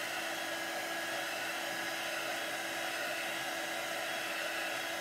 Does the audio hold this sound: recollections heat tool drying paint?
yes